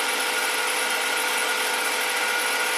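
A power tool polishes acrylic plastic with wax and grit, giving a steady, loud, unbroken whirring hiss with no pauses.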